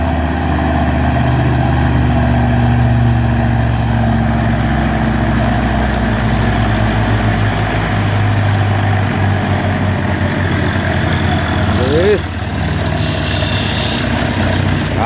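A trailer truck and a Hino truck strain uphill at Bukit Kodok, their heavy diesel engines droning loud and continuous, with a brief change near the end as one engine weakens.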